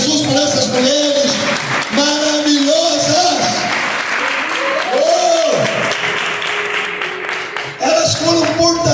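Church congregation applauding during an Easter communion service, steady crowd clapping running throughout beneath a loud preacher's voice and music, with shouts mixed in.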